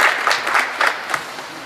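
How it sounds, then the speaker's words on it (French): A crowd claps for donors at a French community event, fairly loud and close, with a few sharper bursts standing out of the dense patter across the short stretch. "Je pense qu'on peut les applaudir."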